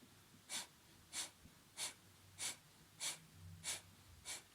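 Breath of fire yoga breathing: seven evenly spaced, forceful nasal exhales about once every 0.6 seconds, close and soft, with quiet between the breaths and no speech.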